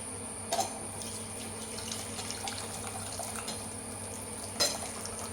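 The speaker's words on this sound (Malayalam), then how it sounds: "ഇനി നമ്മൾ ബൗളിലേക്ക് ഒഴിക്കാൻ പോവാണ്." Puli rasam, a tamarind curry, poured from a pot into a bowl, a steady liquid trickle with a couple of soft clinks of the vessel against the rim, close by and fairly quiet.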